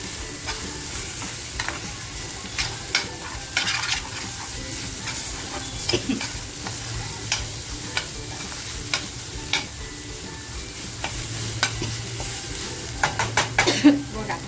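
Mutton vajdi masala cooking in a pan over a full gas flame, a continuous sizzle punctuated by repeated scraping and clinking of a spoon stirring against the pan, the strokes bunching up toward the end.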